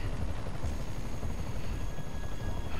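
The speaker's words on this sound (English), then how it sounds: "A chopper. Gotta move." Helicopter in the video game Marvel's Spider-Man, a steady droning rotor wash heard alone at an even level for a few seconds, with no talk over it.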